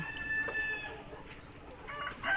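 Hens at a poultry farm cluck and call close by, with a rooster crowing among them. The sound is a busy, continuous chorus with no talking.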